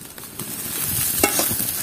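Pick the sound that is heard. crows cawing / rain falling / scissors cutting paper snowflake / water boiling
water boiling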